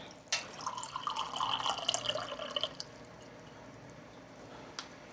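Tap water runs into a measuring cup in a steady splashing pour for about two and a half seconds, then stops, leaving quiet room tone and one faint click near the end.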